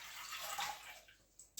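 Water, 450 ml, pours into a mixing bowl in a steady, quiet splashing stream that tapers off into a few last drips.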